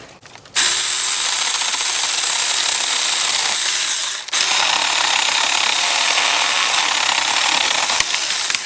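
A mini chainsaw cuts through wood, running as a loud, steady, high buzzing whine that briefly drops out before starting again and continuing to the end.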